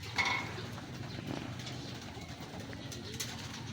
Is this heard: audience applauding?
no